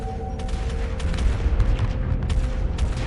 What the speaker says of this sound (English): Big, heavy turret cannon things.